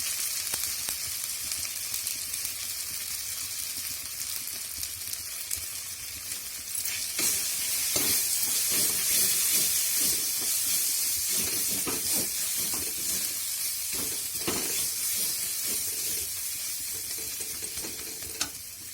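Garam masala sizzles in hot oil in a home kitchen pan, a continuous bright hiss close by that swells louder partway through, with occasional stirring knocks and scrapes.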